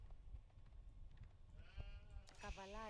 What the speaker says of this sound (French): Ah, autant il a eu beaucoup de moutons.